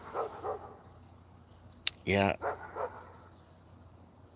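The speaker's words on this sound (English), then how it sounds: "There's a dog barking over there." A dog barks from somewhere behind a house on a small cul-de-sac, a few short, mid-distance barks with a sharp yelp among them, while a person briefly speaks nearby.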